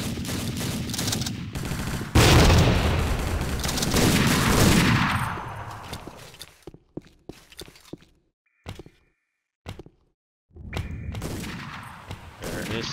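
A grenade blast in the tactical shooter Tactical Ops, a sudden loud booming burst that rumbles and fades over a few seconds, followed by scattered sharp gunshots and clicks amid near silence.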